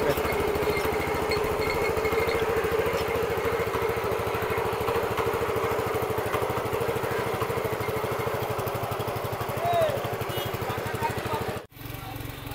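A small tractor-company power weeder engine runs steadily at a constant throttle, a loud close buzzing drone that holds throughout and briefly cuts out near the end before resuming.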